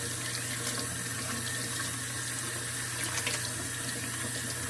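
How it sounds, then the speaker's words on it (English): Running tap water pours steadily from a faucet into a sink as tie-dyed fabric gets its first rinse, a continuous close wash of splashing flow with no talking. "And now I'm just doing the first rinse."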